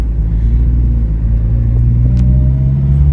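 A 1985 Dodge Omni GLH Turbo in Santa Fe Blue drives along steadily, its engine and road rumble loud and continuous from inside the cabin, with no talking.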